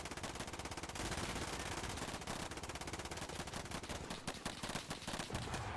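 Desert Eagle pistol gunfire in a video game comes as rapid, dense strings of loud, sharp shots packed close together with almost no pauses, and no one speaks.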